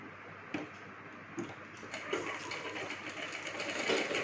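A sewing machine stitching a straight seam along a folded hem of lehenga fabric: a few sharp taps, then a steady mechanical whirring and ticking that grows slightly louder.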